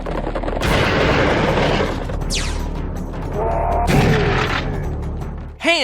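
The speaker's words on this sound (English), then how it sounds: "The Tommy gun's firing sound doesn't loop as quickly." Tommy gun firing in Serious Sam HD, loud and close bursts of automatic gunfire over a dense layer of game noise and effects, ending with a sudden swooping tone.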